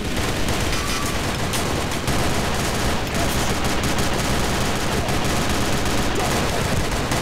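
Dense, continuous gunfire roars without pause, rapid shots blending into a loud unbroken barrage, in the first-person shooter game Sudden Attack.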